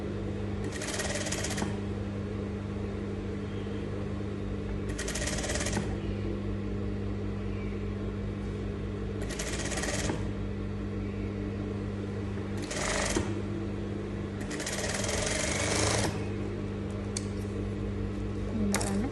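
A sewing machine stitches bias tape onto a garment in about five separate bursts of fast, whirring stitching. A low steady hum fills the gaps between them.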